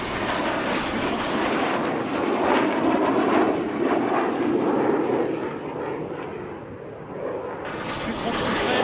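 A Dassault-Dornier Alpha Jet making a slow pass at about 180 km/h at an airshow, a loud sustained jet engine roar that swells and fades slightly, with voices faintly beneath.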